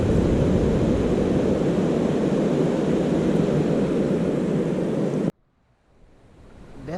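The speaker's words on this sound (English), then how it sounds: "Definitely some water moving now." Water, swollen by recent rain, flows along a forest trail between Cucumber Gap and Little River, giving off a loud, steady, broadband rush that cuts off abruptly near the end.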